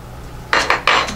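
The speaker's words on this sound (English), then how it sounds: "feel free to just take your knife and cut it into quarters" A knife scraping through a bar of soap to cut it into quarters, three rasping strokes in quick succession, close and fairly loud with no talk.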